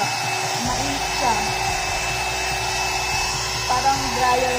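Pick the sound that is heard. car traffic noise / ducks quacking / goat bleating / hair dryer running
hair dryer running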